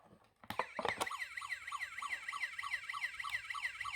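Toy Majorette Mercedes ambulance sounding its electronic siren, a fast warbling wail that repeats steadily after a few sharp clicks at the start, close and fairly loud.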